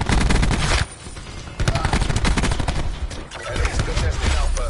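Rapid bursts of video game gunfire in a competitive league match, dense and loud nearly throughout with a brief lull near the first second, then sustained firing again.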